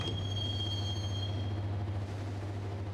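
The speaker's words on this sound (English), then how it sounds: "the train doors had already shut behind me, and I was in for the ride" Steady rumbling of a moving subway train ride in the Max Payne video game, a constant low drone with faint rattling and a thin high whine, heard alone without talk.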